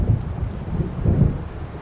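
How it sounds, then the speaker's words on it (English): Deep thunder of an approaching storm in the Alan Wake video game, a low rolling rumble with a couple of swelling peaks, heard alone for a brief moment. "It seems there's a storm coming."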